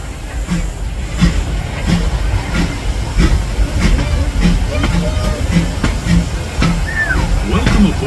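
The Disneyland Railroad steam train E.P. Ripley rolls along with a steady hiss and rhythmic clickety-clack of wheels on rail joints, heard from aboard, continuous and fairly loud.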